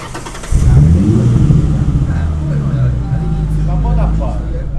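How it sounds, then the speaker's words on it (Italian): An electric Ford Mustang starts up and pulls away, a loud close hum and rising drive noise that settles into a steady tone as the car moves off. "Adesso accenderà l'auto e andremo a fare un piccolo giro giusto per vedere l'interno"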